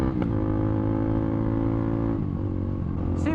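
A motorcycle engine held at around 6,000 RPM, a loud, steady, close-up harmonic drone that dips briefly before settling again at the same high pitch.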